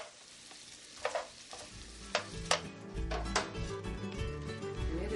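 Mint pesto stirred into cooked shrimp in a hot pan, a soft sizzle under several sharp clinks and scrapes of a utensil against the pan, fairly close and quiet.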